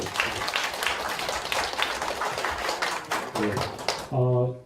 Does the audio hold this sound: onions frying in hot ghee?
no